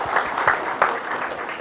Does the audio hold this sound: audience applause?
yes